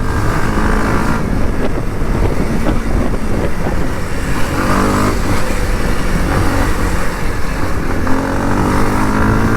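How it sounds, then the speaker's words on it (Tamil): A Kawasaki KLX 230 dirt bike being ridden, its engine giving a steady, loud drone with slight rises and dips throughout. No one speaks. "நான் வண்டி ஓட்டுறதில் இறங்கிட்டேன்."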